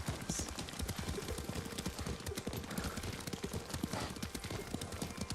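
Horse hooves clip-clopping steadily at a riding pace in Ghost of Tsushima, a video game, close and continuous across the whole stretch with no voices over them.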